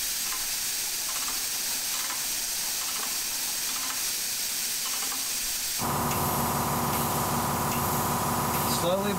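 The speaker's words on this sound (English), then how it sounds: "Those air-powered oil pumps are very handy." Air-powered oil pump moving used tractor oil from a drum, a steady broadband hiss throughout that jumps to a louder, fuller pneumatic rush partway through and keeps going to the end.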